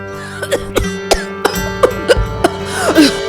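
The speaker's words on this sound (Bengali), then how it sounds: "আহারে, কাশিটা বড্ড বেড়েছে।" An ailing queen in an animated Gopal Bhar cartoon coughs repeatedly in a loud, close, voice-acted fit of short, rasping bursts with some throat clearing.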